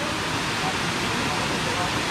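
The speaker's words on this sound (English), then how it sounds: "Here we are at the next level of Kuang Si Waterfall" Kuang Si Waterfall in Laos roars as a steady, loud broadband rush of water, unbroken throughout.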